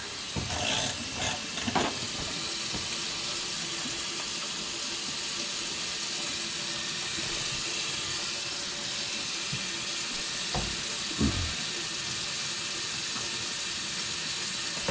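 Very hot water runs from a household tap in a steady, soft hiss, with a few faint clatters near the start and again toward the end.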